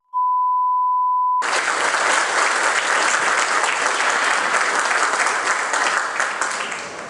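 Audience at a book presentation breaking into loud sustained applause right after a short steady beep tone, the clapping dense and close before tapering slightly at the end.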